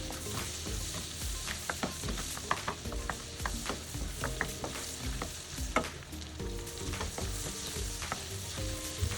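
Sliced garlic sizzles in a hot pan for cream of mushroom soup, a steady crackling fry punctuated by frequent sharp clicks of a utensil stirring and tapping against the pan, up close.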